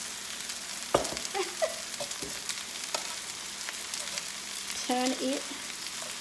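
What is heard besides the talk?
bell peppers frying and sizzling in a pan for beef fajitas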